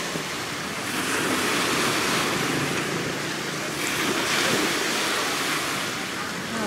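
Sea wind blows steadily along the shore at Pattaya, Thailand, a broad rushing hiss mixed with surf and gusting microphone buffeting, with faint voices underneath.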